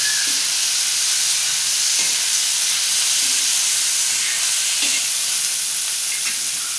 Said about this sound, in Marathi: आता आपण ह्याला चांगलं मिक्स करून घेऊ.